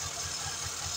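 Car engine idling unsteadily with a clutch-disc and oil-leak history, a steady close mechanical hum with a faint periodic pulsing that rises and falls roughly every fifth of a second, no talking.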